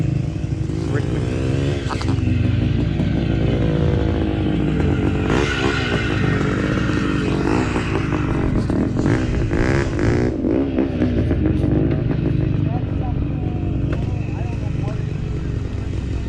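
Vintage motocross motorcycles race around the track at Zoar Moto Park, their engines loud and continuous with revving rising and falling throughout, while someone talks over the noise.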